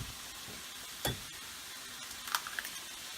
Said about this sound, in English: As you can see, it's starting to sizzle quite a bit.